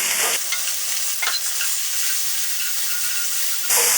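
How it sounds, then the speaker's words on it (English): Loud, bright sizzling of chicken strips hitting hot oil for stir-fried noodles, a dense steady hiss with a few crackles, close up and sustained for several seconds. "When you start putting the vegetables or meat, it starts to sizzle right away."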